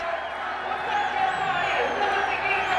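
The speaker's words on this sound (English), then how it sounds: "The Nepali fans, they're cheering." Nepali fans in a stadium at a Nepal versus India women's football match of the 2024 SAFF Championship send up a distant, continuous roar of cheering, with whistles and shouts drifting above it.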